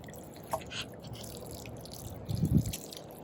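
Water from a garden hose spatters and drips onto soil around potato plants in a backyard vegetable garden, with a few light drops early on and a louder burst of splashing near the end, outdoors and fairly close.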